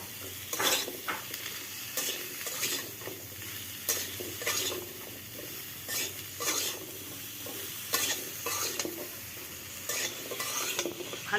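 Spiny gourd (kakrol) is stir-fried without oil in a pan with a little salt and turmeric. Repeated close scraping strokes of a spatula come every second or two over a constant sizzle, with no talking.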